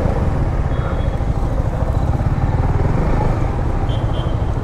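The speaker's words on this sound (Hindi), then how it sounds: "अभी देख रहा हूँ ना भाई एक सेल्फ में स्टार्ट ले रहा है।" A Stella motorcycle engine runs loud and close after a self-start, with a steady rough idle and continuous mechanical rattle throughout; the bike is due for a fuel-injection and wiring check.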